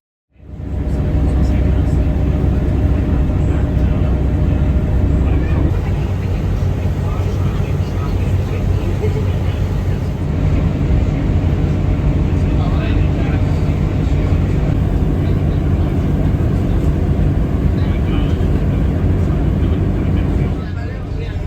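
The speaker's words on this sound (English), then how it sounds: "Cruising along the electrified South Wales Main Line at our top speed of 90 miles per hour" Great Western Railway electric train running at 90 mph on the electrified South Wales Main Line, a steady loud low rumble with rolling track noise that continues without a break.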